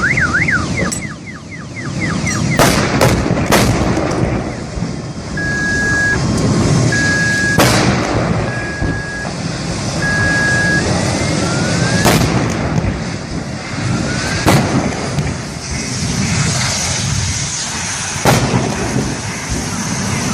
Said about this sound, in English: Lightning struck two moving cars on the road, producing a terrifying explosion